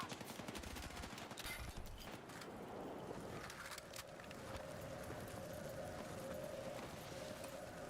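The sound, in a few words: gunfire in the video game Battlefield REDSEC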